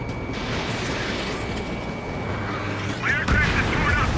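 An aircraft's auto gun fires in the jet combat game Ace Combat 7: a continuous rumbling roar of cannon fire under engine noise, growing louder and busier near the end, while a voice talks.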